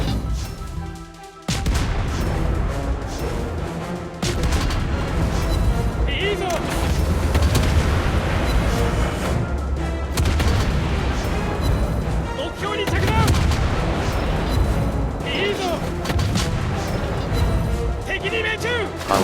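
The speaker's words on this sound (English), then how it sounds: "I'll shoot at Minnesota since they damage controlled." Naval ship guns firing in World of Warships Blitz, with repeated heavy booming salvos and rumbling explosions layered densely under continuous game sound and a speaking voice.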